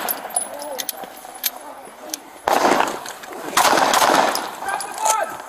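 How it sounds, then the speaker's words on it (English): Gunshots ring out during a police encounter with an armed suspect, two loud broadband bursts around the middle and end amid shouting officers and radio chatter, close and harsh. "Shots fired. Shot fired."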